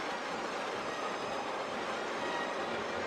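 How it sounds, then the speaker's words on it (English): A black pre-war Bassett-Lowke Royal Scot model locomotive runs steadily along its track, giving a continuous close rolling rumble with a faint metallic wheel hiss and no voices. "This is a Basset-Loc pre-war Royal Scot locomotive in black."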